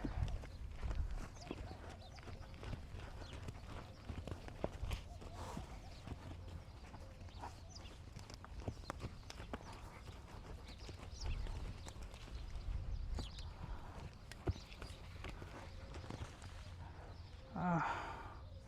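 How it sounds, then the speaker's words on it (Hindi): An Arabian endurance gelding moves about during training, its hooves giving intermittent clip-clop thuds amid snorts and breathing, with people talking over much of it. "घोड़ा उसके पास आया"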